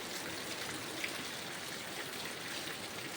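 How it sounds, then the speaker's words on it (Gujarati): Steady rain in a village, a dense even hiss of drops pattering on surfaces with no distinct gaps, close and continuous for the whole stretch. "તમને બતાવું વરસાદ કેવો આવે છે"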